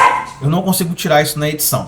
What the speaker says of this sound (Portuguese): Vocês estão ouvindo os meus cachorros no fundo?